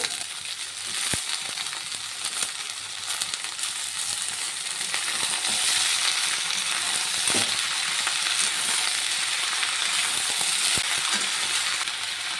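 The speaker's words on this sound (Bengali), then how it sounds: "কুদরি আর আলু একসঙ্গে কুচিয়ে নিয়েছি, দিয়ে দেব।" Chopped ivy gourd and potato frying with onion in hot oil give a dense, steady sizzle that swells louder partway through, with a few sharp ticks and stirring scrapes, close by.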